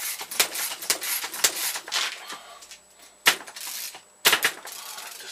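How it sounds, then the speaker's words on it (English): A screw is driven into a wooden pistol crossbow piece, giving close, irregular bursts of creaking and clicking with short pauses between turns. "I'm just going to add another screw to my wood."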